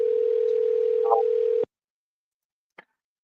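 A telephone ringing tone sounds on a call as one steady, clean electronic tone. It cuts off sharply, followed by silence and a single faint click.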